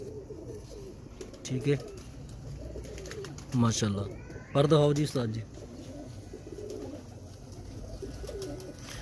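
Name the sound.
grey pigeon cooing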